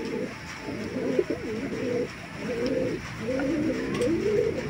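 Racing pigeons coo in repeated soft, throaty phrases, close and fairly loud, over a faint background hiss.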